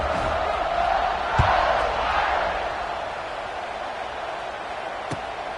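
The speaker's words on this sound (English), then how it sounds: "this crowd is buzzing after that last score" Stadium crowd in an American football video game buzzing after a score, a broad continuous roar of many voices holding steady with a couple of brief thuds.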